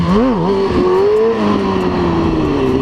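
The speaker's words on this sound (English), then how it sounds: "See how I'm not giving it that much gas? That's an idle wheelie." A Kawasaki 636 motorcycle engine holds a low, steady idle-level drone with a short rev wobble at the start, barely throttled during an idle wheelie, loud and close throughout.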